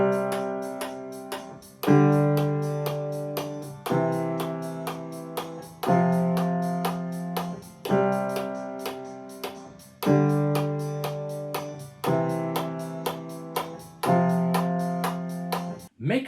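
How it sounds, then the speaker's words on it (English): A beginner's piano chord progression played along with a backing track, a new sustained chord struck every two seconds and left to decay, steady and clear with no voices. "now I want you to try playing this chord progression along with the backing track"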